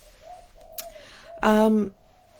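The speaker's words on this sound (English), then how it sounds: "And Gillian, can you hear that, dove? There's always some kind of bird" A dove gives a loud, close coo with a clear tonal call, preceded by fainter, softer hoots in a quiet indoor setting.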